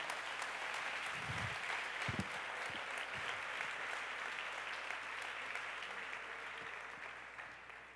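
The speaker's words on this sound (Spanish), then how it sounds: "¿Cuánto le dan un fuerte aplauso a él, por favor?" A seminar audience claps steadily, a thick broadband patter that carries on from start to end and tapers slightly at the close, with a few low thumps mixed in.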